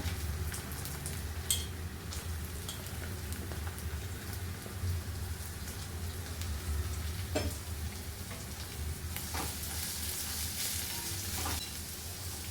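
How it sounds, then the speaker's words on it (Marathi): Paneer chilli being stir-fried in a pan with ginger and spring onion, a continuous rain-like sizzle with scattered clinks and scrapes of stirring, heard close with no talking. "हलवून घेऊया मस्त. पातीचा कांदा टाकूया."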